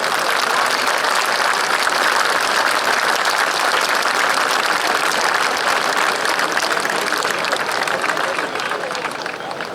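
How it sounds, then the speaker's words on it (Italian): An outdoor air show audience at Jesolo claps together in a loud, sustained wave of applause that continues steadily and only eases slightly at the very end. "un bel applauso propiziatorio, facciamolo sentire, forza Jesolo!"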